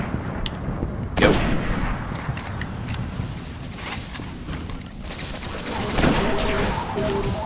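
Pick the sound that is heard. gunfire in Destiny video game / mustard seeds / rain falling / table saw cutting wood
gunfire in Destiny video game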